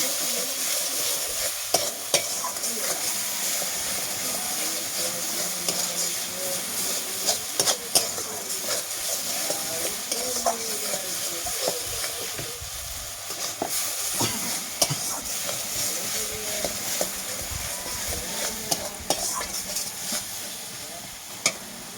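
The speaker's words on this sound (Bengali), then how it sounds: "বেশ খানিকক্ষণ আমি নাড়াচাড়া করবো এটা, কারণ মশলাটা এখনো রেডি হয়েই না" Mustard paste masala for a puti fish gravy is stirred in a hot pan, giving a continuous hissing sizzle with frequent spoon scrapes and small pops throughout.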